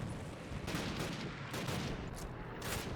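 Dense gunfire crackles nonstop in the 2003 Call of Duty game during a French airborne mission, a rapid, rattling barrage with loud bursts stacked over each other and no voices.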